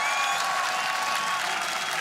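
A large arena crowd at Rotterdam's Ahoy Arena applauds G2 Esports at the 2019 LEC Spring Split grand final, producing a dense, continuous wash of clapping with faint voices underneath.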